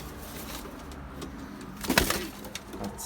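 A pigeon coos once, fairly close, over a quiet outdoor background with a faint hum of distant traffic.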